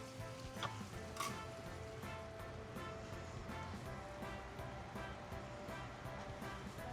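Heavy whipping cream poured into a hot pan of sizzling Cajun shrimp pasta sauce, giving a steady broadband frying hiss with a few brief clinks and splashes, continuous and close, with no talking.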